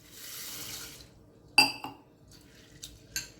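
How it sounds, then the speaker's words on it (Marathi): Sabudana (sago pearls) being washed in water: a short swish of water followed by a few sharp splashes and clinks of a glass or vessel, quiet and close. "आता तो साबुदाणा स्वच्छ धुवून घेऊया आपण."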